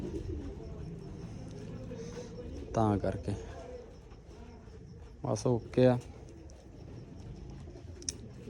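Pigeons in a loft coo softly in the background, with a few clearer coo bursts rising over someone speaking close by.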